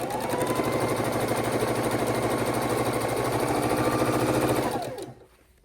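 A sewing machine runs steadily while stitching the seams of a jelly roll quilt, with a fast, even mechanical whirring chatter up close that winds down and stops near the end.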